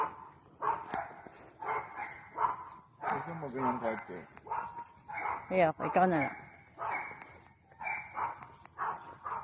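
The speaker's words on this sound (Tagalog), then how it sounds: "Ang tapang. Ang liit-liit. Ang liit ng aso." A small dog barks in repeated short bursts close by, mixed with people talking, at a single attached house in a residential village in General Trias, Cavite.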